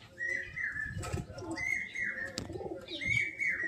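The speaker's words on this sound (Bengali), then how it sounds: "মাদা পায়রা, এটাও একটা মাদা পায়রা" Female pigeons call close by with soft, repeated coos and chirps in three bursts, over low background rustling.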